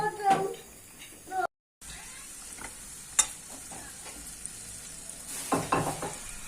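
Simit bread sizzles in a pan of shallow oil as pieces are turned over, a soft crackle with occasional scraping and clinks, while someone speaks in Turkish over it.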